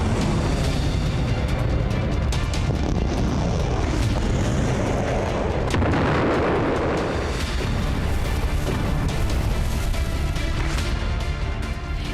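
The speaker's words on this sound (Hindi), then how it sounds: "आसमान से मौत बरसाती मिसाइलें और दूर दूर तक धमाके की गूंज" Missile explosions from a Russian strike on Ukraine, including Kyiv, boom and echo across a wide area, a dense, continuous roar of blasts and rumbling reverberation filling the whole stretch with no talk.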